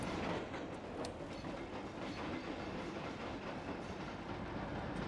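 A train rolls along rails in a simulator game, a continuous moderate clatter of wheels on track with rhythmic clickety-clack and no voices over it.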